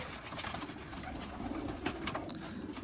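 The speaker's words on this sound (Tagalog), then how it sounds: "Still plenty birds right here." Pigeons coo softly and continuously in a loft, low murmuring calls overlapping with faint rustling and fluttering throughout.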